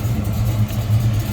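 A 1971 Dodge Demon with a 360 V8, aluminum heads and tri-power carburetion idles nearby, a loud, steady low rumble with a slight lope and no talking over it.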